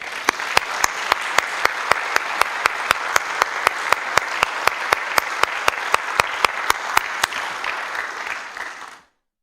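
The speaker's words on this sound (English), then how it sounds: "I think you all deserve a huge round of applause" An awards ceremony crowd applauds under a steady, evenly spaced beat of sharp pulses that keeps time throughout. Both cut off abruptly after about nine seconds.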